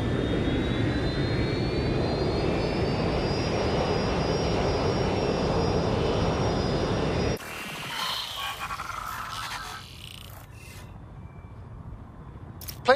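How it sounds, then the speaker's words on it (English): A jet airliner's engine roars steadily and loud in Watch Dogs Legion, with a rising whine, then cuts abruptly to a quieter, lower rumble with scattered clicks. "Plane should be landing in a few hours."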